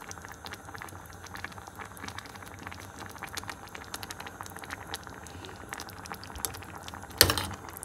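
A tomato and beans curry boils in water in a pot, giving a steady bubbling, crackling simmer throughout with a brief sharper burst near the end.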